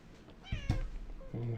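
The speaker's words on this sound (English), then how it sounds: "And I have my cat here." A pet cat meows close by, a short rising cry in the middle followed by another brief mew, with a person speaking briefly around it.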